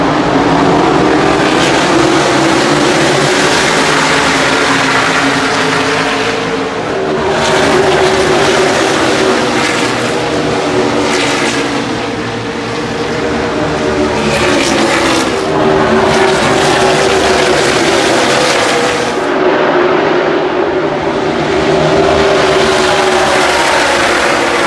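NASCAR stock cars roar around Charlotte Motor Speedway during an open qualifying race at the All-Star event, a loud continuous engine wash that swells and fades as packs of cars pass, heard from the grandstand tunnel area.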